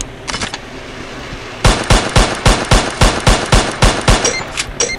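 Gunfire in the mobile shooter game Pixel Gun 3D: a brief burst of shots, then about a dozen loud, evenly spaced automatic rounds fired in steady rapid rhythm, close and dominant with no talk over them.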